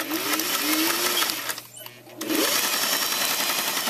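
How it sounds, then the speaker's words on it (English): Sewing machine stitching two fabric bias strips together with a seam for piping, a steady close whir that pauses briefly near the middle before running on again. "So then I would take these two and sew them together."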